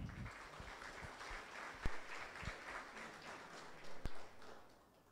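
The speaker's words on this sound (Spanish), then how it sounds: "Un aplauso también para ustedes." An audience at a public accountability assembly gives a faint, distant round of applause, scattered with a few sharper claps and knocks.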